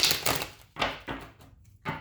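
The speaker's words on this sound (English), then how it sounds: "I'm hearing one more shuffle" A deck of tarot cards is shuffled by hand in quick, riffling bursts, four or five short papery rattles separated by brief gaps, close and fairly quiet.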